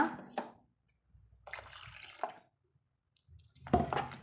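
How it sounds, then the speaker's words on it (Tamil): Water pours from a mixer jar into a pot of brinjal curry in a few short splashing bursts separated by pauses, close by, with no talking. "தேவையான அளவு அந்த மிக்சி ஜாரில் தண்ணி ஊற்றி நான் சேர்த்துக்கிறேங்க"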